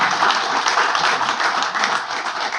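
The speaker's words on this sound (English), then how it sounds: "Let's give him one more round of applause." An audience at a talk on the Penn Station problem applauds after a presentation, a dense, even wash of many hands clapping steadily throughout with no talking.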